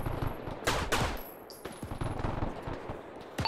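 MG42 machine gun fire in the ArmA 3 video game, a few short bursts and sharp shots ringing out at moderate distance, with echoing gaps between them.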